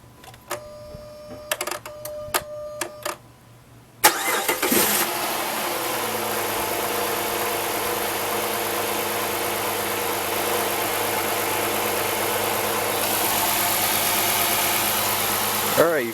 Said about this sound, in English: the car is now running. As you can see, it sounds really nice, really good too.